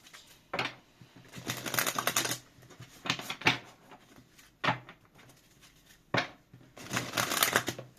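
Tarot cards shuffled by hand for a reading, several quick riffling bursts of papery flutter separated by brief pauses, close and clear with no talking.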